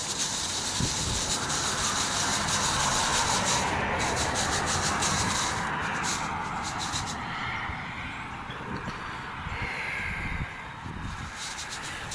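Vitex negundo seeds are rubbed by hand to strip their outer hulls, giving a continuous close scratchy, gritty rasping with steady hiss and small shifts in intensity, with no speech.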